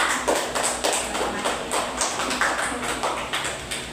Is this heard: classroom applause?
yes